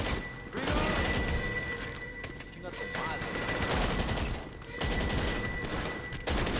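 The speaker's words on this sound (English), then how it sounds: "I'm getting shot to bits over here." Bursts of rapid gunfire aimed at the player in GTA Online, dense volleys nearly continuous across the span with brief gaps, loud and close over game ambience.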